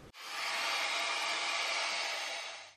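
Hair dryer fitted with a diffuser attachment, a dupe of the Dyson Supersonic, blowing a steady, loud broadband rush of air close by, starting abruptly and holding level for nearly three seconds with no talking.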